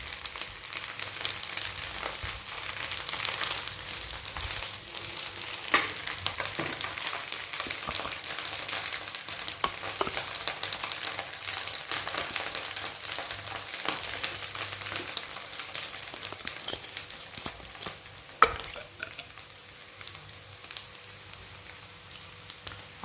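Chicken schezwan fried rice being tossed in a wok over a high flame gives a steady, loud sizzle with scattered crackles and stirring scrapes throughout, with no voices.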